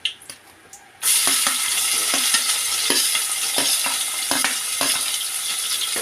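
Chopped onion hits hot oil already holding cumin, bay leaf, a cinnamon piece, cloves and cardamom, setting off a loud, steady sizzle close by, with a spoon scraping and stirring at intervals.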